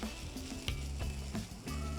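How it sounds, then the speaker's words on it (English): Ginger sautés in a hot pan, turning translucent to light brown, with a dense close sizzle and repeated scraping strokes of a spatula through the short stretch. "I saute this and I let it turn a little translucent or light brown"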